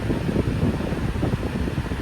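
A red and black 20-inch drum fan at medium speed whirs steadily with a broad, rushing hum, constant and fairly loud, with no talking.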